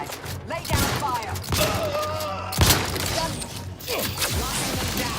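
Gunfire in the shooter game The Outer Worlds 2 on hardest difficulty: sharp bursts and impacts erupt in loud clusters over several seconds, mixed with crashing, clattering combat noise, with voices talking through the fight.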